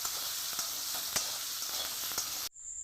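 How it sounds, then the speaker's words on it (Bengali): Potatoes with turmeric and salt frying in refined oil in a pan for chana dal, giving a loud, steady hiss of sizzling with small crackles, then cutting off abruptly near the end. "ভালো করে লাল লাল করে আলুটা ভেজে নেব।"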